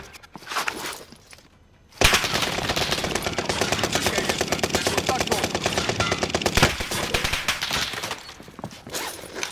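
Rapid automatic gunfire in Call of Duty Warzone, a dense, loud burst of shots that starts abruptly and runs for several seconds, with quieter game sounds before it.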